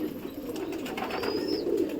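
Champion pigeons coo softly and steadily at close range, a low continuous murmur of several birds with a faint higher whistle passing briefly near the end; no one speaks.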